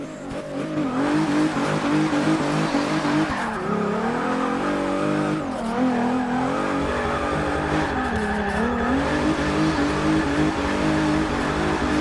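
Front-wheel-drive car drifting on a handbrake in Forza Motorsport 6, with a loud, steady engine drone and tire squeal that rises and falls through the turns, no voices.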